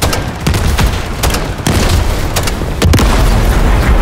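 In the Call of Duty Modern Warfare 3 video game, a helicopter is shot down and explodes, heard as loud heavy booms over dense rumbling gunfire and blasts that build toward the end, with no speech.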